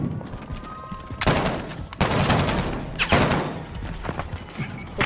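Bursts of Call of Duty Warzone gunfire crack repeatedly over a dense, noisy battle backdrop, with heavy volleys at several points.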